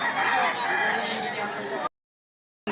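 A rooster crows loudly and close at a chicken sale in Lipa, Batangas, one long sustained call that cuts off abruptly into silence.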